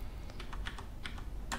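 Typing on a computer keyboard during a Linux installation, heard as a quick run of light, irregular key clicks over a steady background hiss.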